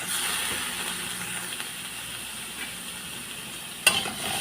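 Broccoli, cauliflower and carrots sizzle steadily in a hot pan, a soft, even frying hiss throughout, broken near the end by a sharp clatter.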